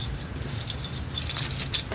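A bunch of keys jangles and clinks softly while being handed over indoors, with small metallic rattles recurring over a low background hum.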